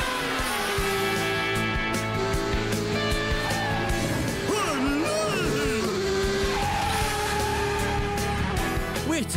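A cartoon racing car roars around a race track with loud engine revving and tire squeals over a busy music bed, continuous and close throughout.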